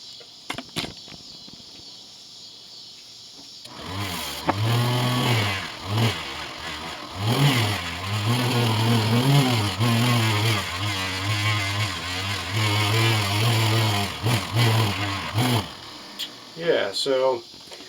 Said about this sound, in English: that's just a few quick passes with a little bit of the green buffing compound